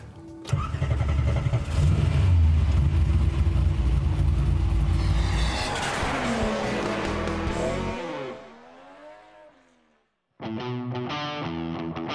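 A Ford Mustang SVT Cobra or Chevrolet Corvette Coupe engine roars loudly, then revs with rising and falling pitch, drops out briefly, and rumbles back to life.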